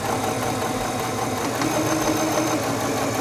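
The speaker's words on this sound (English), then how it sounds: "sew forward along your seam." A Singer 7258 computerized sewing machine runs a seam with a steady, close mechanical whir and fine rapid needle rhythm, holding constant throughout with no talk.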